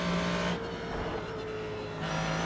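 A Ford GT3 race car at Barber Motorsports Park in iRacing, its engine note holding a steady tone, then easing off briefly through a curve before climbing back up, close and loud, with no voices.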